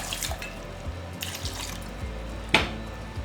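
Water is poured into a juicer jar, a brief close splashing gurgle with a small drip-like knock near the end.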